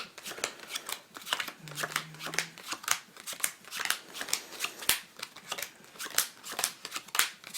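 Playing cards dealt one at a time into four piles, a steady run of crisp flicks and soft slaps on a table, close and clear, with no talking.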